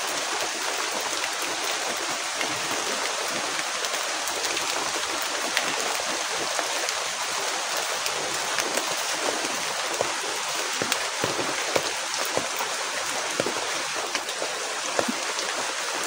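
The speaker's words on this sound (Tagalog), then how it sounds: "Grabing ulan, guys." Heavy rain pours down in a dense, steady hiss with scattered sharper drops striking nearby surfaces, unbroken and loud throughout.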